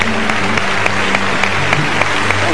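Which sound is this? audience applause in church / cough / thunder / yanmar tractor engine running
audience applause in church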